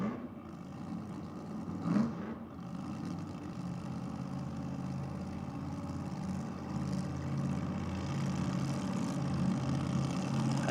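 A nitro-fuelled nostalgia drag racing car engine rumbles and crackles at a distance at a drag strip, a rough continuous mechanical roar growing slightly louder toward the end, with a brief bang early on.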